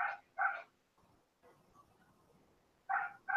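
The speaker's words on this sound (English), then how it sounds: "She's just barking because she's a dog." A dog barks just outside a window, short loud bursts in two quick pairs separated by a quieter stretch of low background noise.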